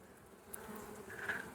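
Honey bees buzzing around a hive frame, a soft continuous drone of many wings, faint and steady with no voices.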